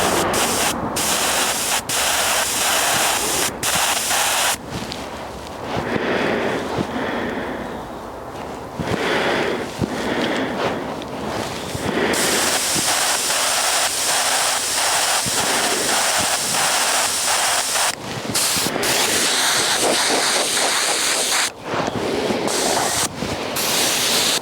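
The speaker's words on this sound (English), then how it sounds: "Get enough air in, then I'll start spraying" Compressed-air spray gun spraying aluminium paint, a loud continuous hiss of air in long bursts, cutting off briefly and restarting several times.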